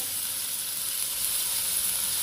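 Shallots, onion and garlic sauté in leftover oil in a wok, giving a steady, close, bright sizzle that hisses evenly without pause.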